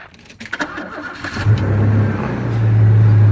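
A 1987 Chevrolet S10 pickup truck engine cranks briefly, catches and settles into a loud, rising idle up close, with a few clunks just before it starts.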